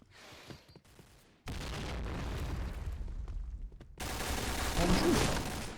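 M4 rifle gunfire in the video game Point Blank, bursts of dense rapid shots and booms, fairly faint and distant, in overlapping waves.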